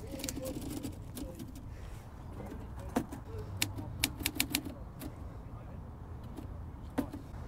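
Stiff burgundy Olympia typewriter with rusty letters being typed on, sharp irregular key strikes in a cluster mid-way over a busy outdoor background with a low vehicle hum.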